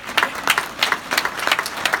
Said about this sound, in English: I'm gonna clap one more time.